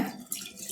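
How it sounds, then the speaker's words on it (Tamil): Water splashes and gurgles steadily for a moment, close by, with a brief surge partway through, as water is poured into a cooking pot of mutton potato curry. "நல்ல தண்ணி ஊற்றிட்டு எல்லாம்"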